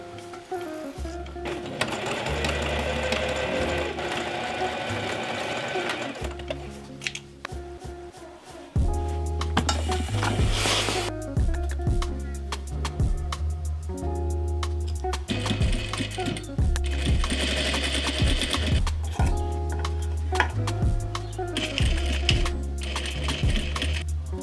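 A sewing machine with a quilting foot stitches a camera bag in loud, close bursts of rapid mechanical chatter, stopping and restarting several times with brief pauses between runs.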